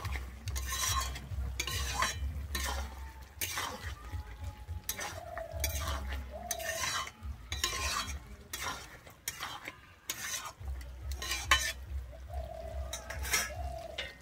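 Masala cauliflower and peas with coriander leaves are stirred in a pan, with repeated scraping, clinking strokes over a low sizzle, close and steady with brief pauses.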